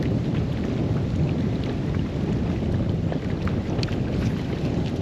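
Wind blows during a bass fishing outing, a loud, constant roaring buffet pressing right against the microphone with a faint patter on top and no voices.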